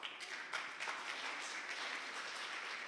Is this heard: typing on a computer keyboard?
no